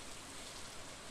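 Rain in the video game Stardew Valley forms a soft, even hiss of steady falling drops, faint and continuous throughout the brief moment.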